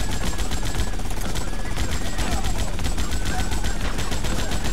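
Rapid gunfire from shooting in GTA Vice City rattles continuously over dense game noise and music, a steady loud barrage with no clear pauses.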